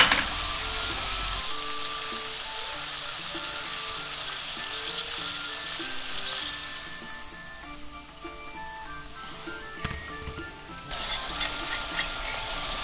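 Meat frying in a pan gives a steady, close sizzle with stirring scrapes throughout, ending in a louder crackling burst near the end; no one talks.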